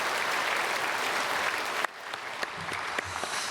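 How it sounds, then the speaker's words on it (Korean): A church congregation at a Sunday worship service applauds to welcome newly registered members, with steady dense clapping that cuts off abruptly partway through, followed by a few scattered faint claps. "우리 크게 박수로 환영하겠습니다"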